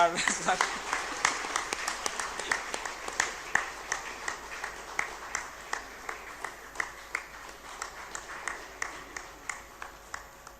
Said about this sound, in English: Give a big round of applause for